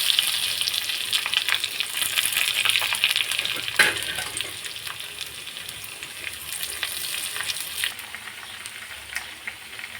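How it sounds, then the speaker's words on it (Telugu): Tempering spices fry for sambar with a continuous close sizzle and crackle, with occasional spoon scrapes, in a busy home kitchen preparing food delivery orders. "ఇంకా సాంబార్ పోపు పెట్టేస్తున్నాను."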